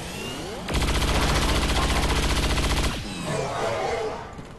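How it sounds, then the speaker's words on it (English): Sustained burst of rapid automatic gunfire from the XCOM 2 video game, loud and continuous for about two seconds, set against a low droning game soundtrack with a faint tail after it stops. "let's just fire and hope that you can hit"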